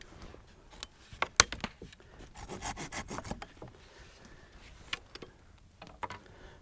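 Cutting a small piece off a wooden bough outdoors while building a raised bough bed, with rough rubbing, sawing strokes and woody snaps, close and fairly quiet, then a few scattered knocks.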